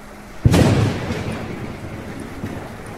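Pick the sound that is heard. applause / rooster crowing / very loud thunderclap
very loud thunderclap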